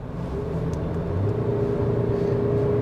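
A 2022 Maruti Suzuki Brezza automatic's 1.5 litre dual VVT petrol engine drones under full throttle, its note climbing steadily beneath a constant cabin rumble, heard from inside with no voices.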